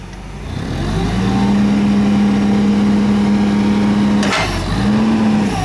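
A Toyota 7FGCU20 LP-powered forklift on cushion tires, recently tuned up, runs with a loud, steady engine drone close by, holding an even pitch before briefly dipping and rising again.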